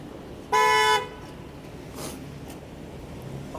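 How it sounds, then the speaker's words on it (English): A car horn gives one loud half-second honk on a Toronto street, then faint traffic noise and a couple of soft distant sounds follow. "Honk."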